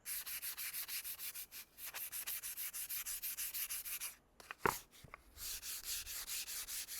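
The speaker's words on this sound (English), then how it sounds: "So as I'm sanding it, some of the veneer is peeling off." A veneered wooden plant stand is sanded with rapid, steady, close strokes, a hissing, scratchy rhythm that breaks briefly midway for a couple of knocks before resuming.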